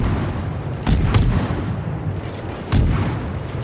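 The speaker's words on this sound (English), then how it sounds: "Musashi, of course, has 460mm guns, and they absolutely wreck cruisers when they connect" Musashi battleship 460mm main guns firing in World of Warships, heavy booming salvos landing in two separate bursts with rumbling tails between, loud and close with no talking.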